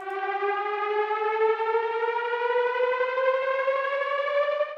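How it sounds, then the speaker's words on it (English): A simple custom synth riser built in Serum, with an LFO mapped to the coarse pitch of oscillator A, sustains a bright buzzy tone that glides steadily upward, loud and continuous on its own. "just a custom riser here with Serum, very simple"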